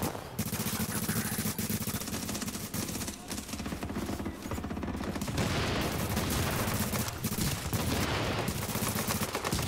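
Constant loud gunfire from the PC shooter The Division, with rapid automatic bursts and heavy shots filling the whole stretch without a break.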